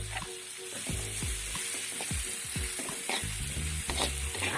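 Carrots and spring onions stir-fried in a pan, a continuous sizzle with repeated spatula scrapes and knocks against the pan in an uneven rhythm, close and fairly loud, no talking.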